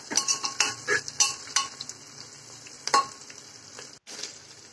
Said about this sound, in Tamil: இதெல்லாம் சேர்த்து நல்லா வதக்கி எடுத்துக்கலாம்.